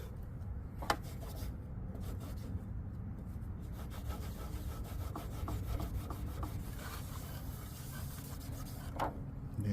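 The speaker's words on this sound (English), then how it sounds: "Now we're going to have to clean this adhesive off." Adhesive being scraped and scrubbed off the metal disc plate of a Delta belt sander, a steady close rasping and rubbing with irregular strokes and a few sharper scrapes, no talking.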